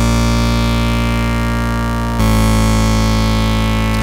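A Serum software synth patch set up to imitate a Minimoog, with its resonant filter engaged, sounds a loud, steady, harmonically rich sustained tone that shifts to a new held pitch partway through, alone with no talk.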